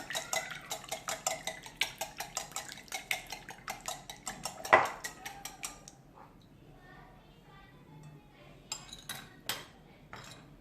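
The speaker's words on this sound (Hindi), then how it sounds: "अब इन तमाम इंग्रेडिएंट्स को मिक्स करूँगी" Utensil rapidly stirring banana muffin batter with oil in a bowl, a quick run of close clinking strokes for about six seconds, then a quieter stretch with a few scattered clinks near the end.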